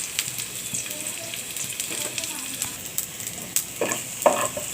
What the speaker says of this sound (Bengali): পেঁয়াজগুলো তেলে ভেজে নেব